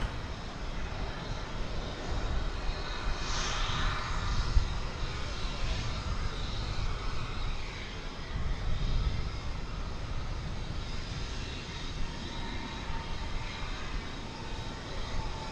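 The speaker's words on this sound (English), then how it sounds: "Another American Eagle jet. Another E-jet." An American Eagle Embraer E-jet passes at Dallas–Fort Worth International Airport, a steady loud broadband engine roar holding for about fifteen seconds with no talk.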